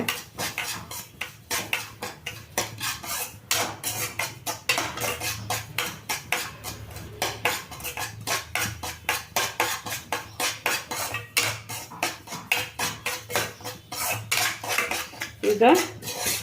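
Semolina (rava) is roasted in a pan and stirred continuously, with rapid, rhythmic scraping and clinks of a utensil against the pan repeating throughout at moderate loudness.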